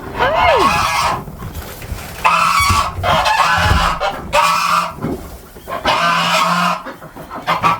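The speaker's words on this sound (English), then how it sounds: "There's the noisy geese." Geese honk loudly and repeatedly nearby in noisy bursts, with clucking poultry and faint farmyard sounds around them, on a farm in extreme cold.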